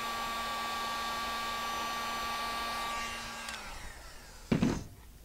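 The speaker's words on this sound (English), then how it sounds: "we'll heat shrink them down to seal them up, make them safer" A heat gun blows with a steady whining whir while shrinking heat-shrink tubing over wire connectors, then winds down and stops, followed by a short clunk.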